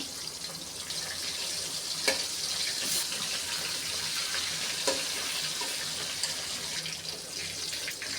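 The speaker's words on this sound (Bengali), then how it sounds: "আমার তেল গরম হয়ে গেছে এখন আমি মাছগুলো দিয়ে দেব সবগুলো মাছ একসাথে বাজা যাবো না আমি কয়েক পিস করে ভেজে নেব" Rui fish sizzling as it fries in hot oil, a few pieces at a time, giving a steady, dense crackling hiss with occasional louder pops throughout.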